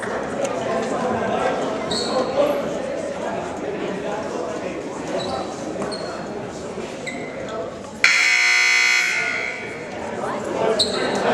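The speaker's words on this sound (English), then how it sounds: "Nice huddle as the first horn sounds with 15 seconds left to go in the timeout" A loud, sustained basketball timeout horn blares for about three seconds over the noisy hum of a crowded high school gym, cutting in abruptly after a stretch of crowd chatter.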